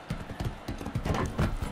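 Horse hooves clip-clopping in the Motion Sports video game, a brisk steady run of close hoof knocks with no talk over them.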